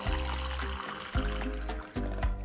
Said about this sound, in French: j'ajoute ici mon eau à ma bouteille